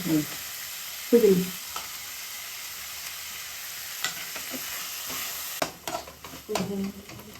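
Tomato and mint sizzle steadily as they fry in a pan, with a utensil scraping and stirring now and then and faint background voices.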